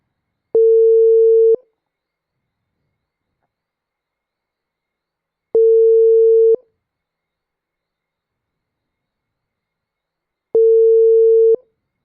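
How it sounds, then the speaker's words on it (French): Telephone ringback tone while calling someone: three evenly spaced, one-second electronic beeps at a steady pitch, each followed by about four seconds of silence, clear and alone. "Là, bah, on va l'appeler."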